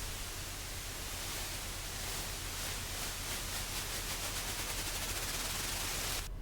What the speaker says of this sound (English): just a bit of white noise